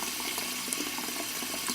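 Cartoon-style effect of water flooding a Costco store, a continuous close hiss of running, splashing water with no pauses.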